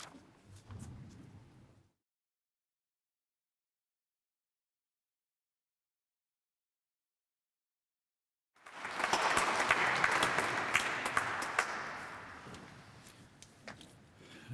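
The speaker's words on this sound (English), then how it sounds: "I'm glad you clapped" Audience applause following a live performance of the sextet from Strauss's opera Capriccio at a memorial celebration, a brief burst at the start, then silence, then a loud sustained round of clapping from a large hall crowd that slowly tapers.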